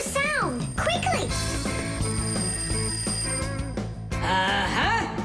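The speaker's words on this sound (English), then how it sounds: "Simka, I think I can hear my alarm ringing." A cartoon alarm rings with a steady, shrill electronic tone that carries the whole moment, while animated characters call out over it, their voices rising and falling.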